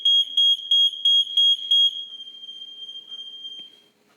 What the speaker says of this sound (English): Smoke alarm going off.